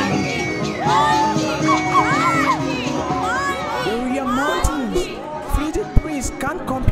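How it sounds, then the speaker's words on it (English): Animated crowd cheering in excitement, a busy mix of high, excited shouts and child-like voices rising and falling over steady chatter, with a few sharp yelps breaking out near the end. "Now the crowd cheers in excitement."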